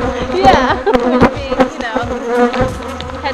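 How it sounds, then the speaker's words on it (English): Honey bees buzz loudly and close by around a hive, individual insects droning past in shifting pitches over a busy swarm hum. "the guard bees mostly just headbutt you before they ever sting you"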